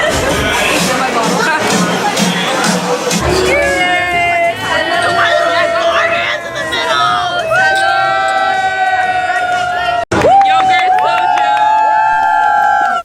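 A restaurant group and staff sing a birthday song for a birthday girl, a steady sung melody over loud crowd babble with cheering and whoops, briefly cut off near the end before resuming.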